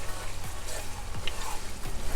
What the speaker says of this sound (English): So I'm going to give this 5 minutes of frying